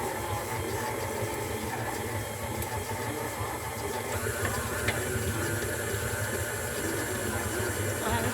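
An electric mixer creams cookie dough for Christmas pinwheel cookies, a steady whirring drone running continuously with faint rattles, while a person talks over it now and then.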